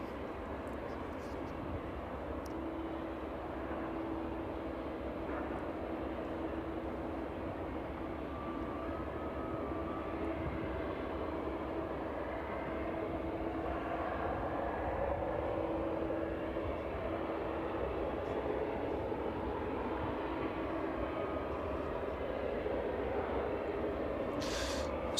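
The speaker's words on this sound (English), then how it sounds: "able to see most of these aircraft as they approach from the south" An aircraft approaching East Midlands Airport from the south, a steady distant engine drone that swells slightly through the middle and stays at an even level throughout.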